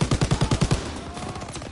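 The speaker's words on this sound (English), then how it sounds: "Who's shooting me then?" Rapid bursts of gunfire from Call of Duty WW2 in a World War II stronghold battle, about ten close, loud shots in a quick rhythmic run, then a short lull and one more shot at the end.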